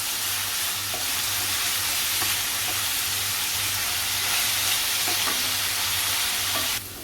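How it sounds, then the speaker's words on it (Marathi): Chopped onion sautés in hot oil in a pan for a garlic prawns dish, giving a steady, close, continuous sizzle with faint stirring scrapes and no voices. "आता कांदा आपला थोडा परतून झालेला आहे"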